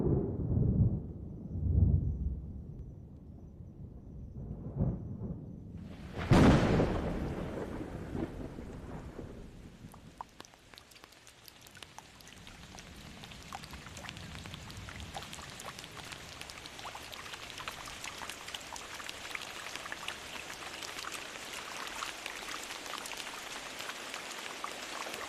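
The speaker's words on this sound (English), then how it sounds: "The first rain has fallen," Thunder rumbles in low, rolling bursts over the first seconds, then steady first rain after a six-month drought at Victoria Falls sets in as a dense, even hiss that continues unbroken to the end.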